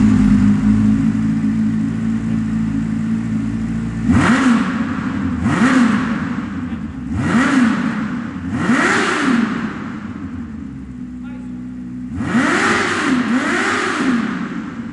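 A motorcycle engine with an aftermarket exhaust idles loudly, then revs hard in repeated bursts, each blip rising and falling, a rapid pair of revs near the end.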